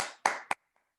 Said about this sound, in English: I clap for Chris.